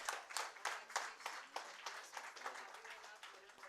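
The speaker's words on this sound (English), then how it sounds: "Can we have a big round of applause?" An audience claps in a burst of applause at a college event, the irregular claps loud at first and slowly thinning out.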